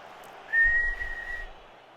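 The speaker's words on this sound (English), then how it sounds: "Blow the whistle." A referee's whistle in the Football Manager 2021 football game gives one steady, shrill blast of about a second over a faint low rumble.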